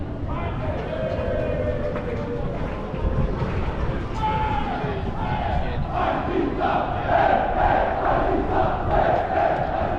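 Noisy crowd in a Romanian city street on museum night with heavy police presence, a dense roar of many voices with shouting and chanting, loud and continuous, with people talking nearby.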